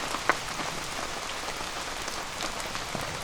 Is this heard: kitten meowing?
no